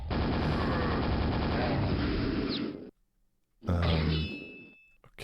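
A shotgun fires in the video game Dimension of the Past. Loud dense blasts fill the first few seconds, then a short silence, then another heavy burst fades out.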